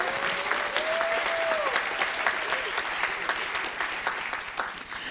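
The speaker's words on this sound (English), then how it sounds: "Another round of applause for Portia." An awards ceremony audience applauds Portia with sustained, even clapping from a large crowd, a brief whistle rising over it early on before the applause carries on steadily.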